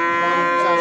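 Friesian cattle at a traditional cattle market, one animal giving a brief, loud, sustained low moo close by.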